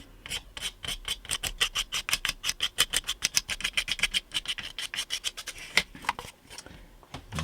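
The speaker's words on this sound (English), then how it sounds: "scrape individual boards. And as you can see, you can go pretty fast." A hand blade scrapes quickly along individual wooden boards of a building kit, producing a fast run of sharp, rasping strokes close by, steady and rhythmic before slowing and tapering near the end.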